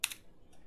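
A couple of quick, close keystrokes on a computer keyboard, then a faint tap, all in a brief, quiet burst.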